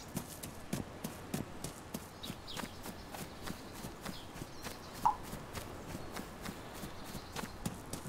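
Footsteps in DayZ sneak up on a zombie, a run of soft, evenly spaced steps with a light clopping rhythm, fairly quiet and steady, with one sharper click midway and no talking.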